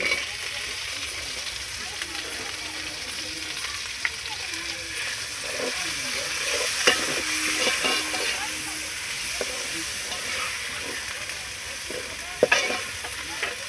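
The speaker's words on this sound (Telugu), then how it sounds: "అల్లం వెల్లుల్లి పేస్ట్ పచ్చి వాసన పోయాక ఇప్పుడు మనం ఇందులో టమాటాలు వేద్దాం." Tomatoes fry in oil with ginger garlic paste for a fish curry, giving a steady, loud sizzle throughout, broken by occasional scraping and clinking as the pan is stirred.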